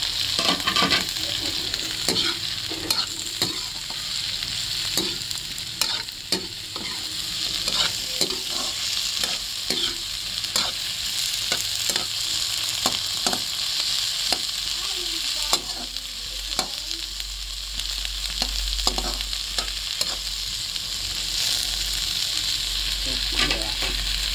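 Okra sautés in a hot pan with a steady, dense sizzle, punctuated throughout by frequent quick scrapes and taps of a spoon stirring against the pan, close and fairly loud.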